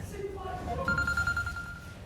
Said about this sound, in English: Sorry, my phone's ringing now.